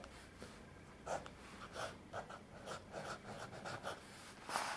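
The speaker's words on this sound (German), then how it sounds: "wir gucken uns an, wie dieser Füller schreibt" Lamy fountain pen writing on paper, a soft close scratching of separate nib strokes in an irregular rhythm, faint and quiet, with no talking.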